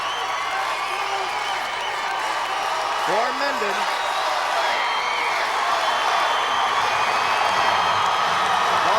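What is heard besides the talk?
football crowd cheering at a game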